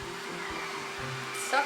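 A pet grooming vacuum sucking loose dog hair, a steady close whirring motor drone with a brief rise near the end.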